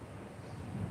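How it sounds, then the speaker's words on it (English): Wind buffets a microphone outdoors in Pennsylvania, producing a steady low rumbling roar that swells slightly toward the end, faint overall, with no voices. "it's windy over here today"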